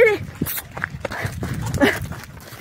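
Dark-furred dogs dash around outdoors after dark, with short scuffling bursts and a few close yelps, while a person's voice calls out over them.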